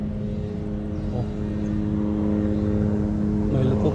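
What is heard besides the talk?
helicopter flying overhead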